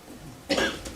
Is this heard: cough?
yes